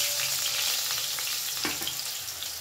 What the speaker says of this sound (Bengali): মাছ ভাজা তেলের মধ্যেই আমি এখন আলুগুলো লাল করে ভেজে নেব